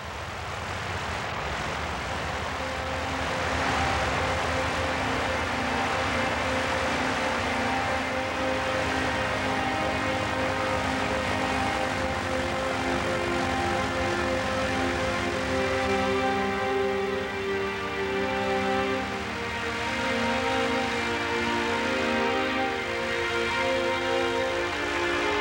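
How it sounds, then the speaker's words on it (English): A Windy 735 light plane's engine runs steadily at power while taxiing across a frozen lake, a continuous droning hum with harmonic tones that swells slightly and holds loud throughout, no voices. "Darrell has to adjust the engine power to steer the plane."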